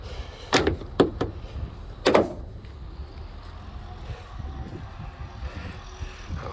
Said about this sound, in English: I'll close these doors for you.